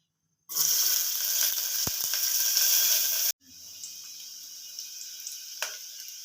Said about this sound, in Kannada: ಎಣ್ಣೆ ಕಾದಿದೆ ಇವಾಗ ಕ ಒಂದು ಕಟ್ ಮಾಡ್ಕೊಂಡಿರೋ ಈರುಳ್ಳಿ ಹಾಕ್ತಾ ಇದ್ದೀನಿ ಒಗ್ಗರಣೆಗೆ